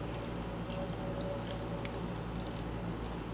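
One cup of water poured into a coconut whole wheat sweetbread mix, a soft steady splashing pour with faint trickling over low background hum, alone and close.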